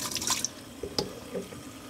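Hot water runs and drips into an Omnia stovetop oven pan in a sink, a soft irregular splashing trickle heard close up with no voices.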